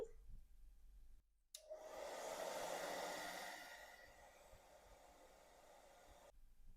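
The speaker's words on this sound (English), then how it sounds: "And then I'm going to dry the painting completely." Hair dryer switched on after a click to dry a watercolor painting, a steady close whooshing blast of air that rises then eases slightly before cutting off after about five seconds.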